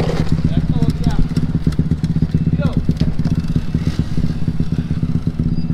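A Yamaha Y15ZR motorcycle, a fallen bike with a weak battery, is kick-started and chugs into a rough running idle with steady low pulsing throughout, while people talk nearby.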